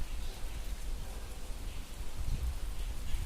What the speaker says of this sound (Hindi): रूम झुम बरखा लगी गे।